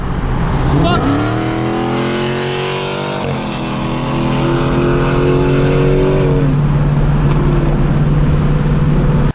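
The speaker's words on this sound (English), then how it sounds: "it is a pretty loud Hellcat, but definitely a very fast Hellcat as well" A Dodge Hellcat with its catalytic converter deleted revs hard and very loud, the engine climbing in pitch, holding high, then dropping as a steady roar continues up close until it cuts off.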